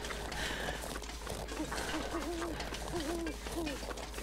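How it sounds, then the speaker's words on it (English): An owl hooting in the video game The Long Dark, a few soft low hoots repeating in a loose rhythm at a distance over a steady wind-like ambient hum. "I can hear the owl."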